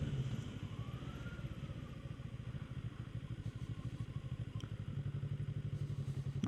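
A Kawasaki Z650 being ridden, its engine giving a steady, rhythmic, pulsing drone at cruising speed along with wind rush and light clatter, and no voices heard.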